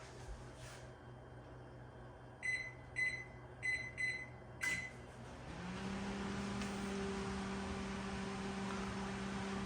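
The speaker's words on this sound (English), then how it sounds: "Okay, the microwave is working, it's heating." A Dacor microwave oven, heating a glass of water after a repair for no heat, gives several sharp keypad beeps, then starts a steady, low electrical hum that continues evenly with no talking.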